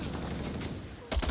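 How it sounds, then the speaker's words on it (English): Mark 18 rifle gunfire in the VR shooter Onward during an EU competitive esports match: a loud, dense burst of shots cuts in near the end, after a stretch of mixed game noise. "Achilles, a headshot with the Mark 18."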